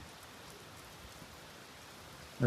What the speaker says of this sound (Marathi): पाऊस एवढा आहे ना, खूप पाऊस आहे